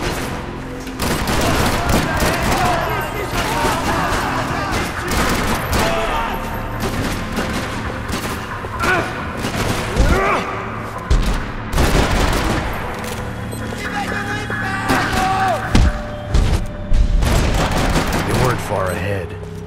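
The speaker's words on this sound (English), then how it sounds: "Another parking lot rattling with gunfire." Sustained gunfire rattles through a parking lot in Max Payne 3: dense bursts of shots and heavy thuds run almost continuously at close range, with a voice speaking over part of it.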